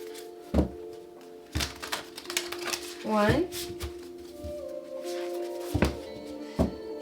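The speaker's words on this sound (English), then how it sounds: "Let's get 2 more shuffles." Tarot cards are shuffled by hand in a series of soft riffles and sharp thunks as the deck is tapped down, close and fairly quiet, with a voice speaking briefly between the shuffles.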